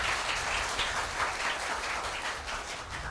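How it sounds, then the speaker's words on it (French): Sustained audience applause at a Haitian lycée quiz competition, a dense, steady wash of many hands clapping throughout with no voices over it. "Mesdames et messieurs, je vous demande d'applaudir cette partie."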